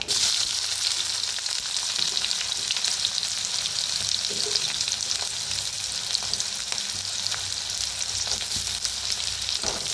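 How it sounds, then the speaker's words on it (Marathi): Chopped onion fries in a pan with cumin and mustard seeds in oil, a dense, continuous close sizzle with scattered crackles and occasional stirring scrapes, no voices throughout. "कांद्याला भाजून घेऊया।"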